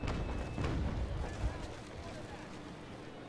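Ship cannons firing in the naval battle game Naval Action, a dense rumbling barrage of broadband booms with one sharper thud partway through and a brief crack at the end, with a voice speaking over it.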